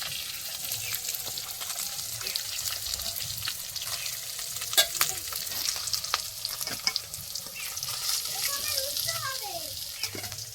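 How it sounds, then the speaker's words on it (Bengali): Fish frying in a home kitchen pan, a moderate sizzle with scattered clinks and scraping, a sharp clatter midway and faint background voices. "দেখো মাছগুলো এখন একে একে তো সব ভেজে নেবো"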